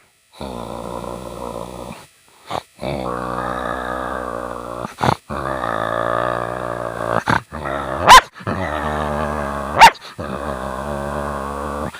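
A male performer imitates big dogs fighting, a long run of deep rumbling growls broken by sharp, loud barks and snarls, voiced alone and up close.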